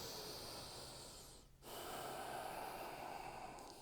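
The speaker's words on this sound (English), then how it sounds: "Take 3 breaths." A single deep breath taken during a yoga pose, a long airy inhale and exhale with a brief pause in the middle, close and quiet, with no talking.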